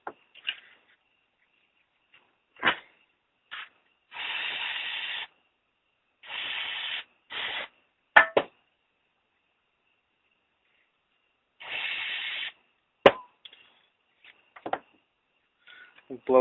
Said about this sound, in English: Blow out the little filters.